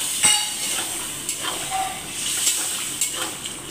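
Potato pieces and chickpeas go into hot spiced oil with a steady broadband hiss and sizzle, punctuated by a few sharp clinks of a spoon against the pan, close and fairly loud with no speech.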